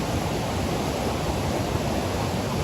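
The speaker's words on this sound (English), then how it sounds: "this is Mother Lode Falls on Slap Creek" Roar of Mother Lode Falls on Slap Creek, a broad, steady rush of falling whitewater that stays constant and fairly loud, with no voices.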